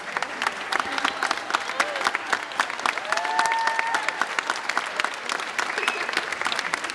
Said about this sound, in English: At least I get the applause of a couple hundred people.